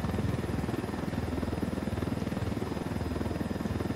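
A helicopter in the video game Ghost Recon Wildlands gives a steady, loud rotor drone with a fast, even thumping chop that holds for the whole stretch, with no talk over it.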